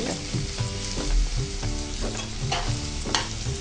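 Garlic sautéing in a pan for wheat noodles: a loud close sizzle with spoon scrapes and clinks, steady throughout the short stretch.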